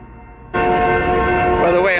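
A loud, sustained train horn blares suddenly after a quiet moment, its chord holding steady and close, with a slight pitch shift near the end.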